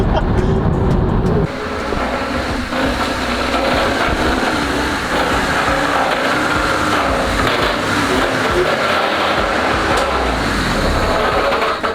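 A loud rotary-engine car runs steadily with a raspy, buzzing drone throughout, while people talk over it close by.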